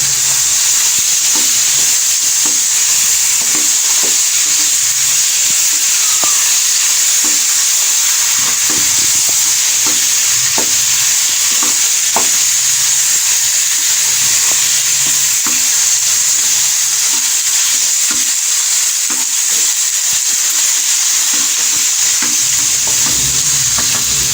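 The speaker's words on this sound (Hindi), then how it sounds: "अच्छी तरह से मिक्स करेंगे इसे और भूनेंगे इसे अभी।" Marinated goat liver (kaleji) is mixed and fried in a pan, giving a loud, unbroken sizzle with faint scraping and stirring ticks across nearly half a minute.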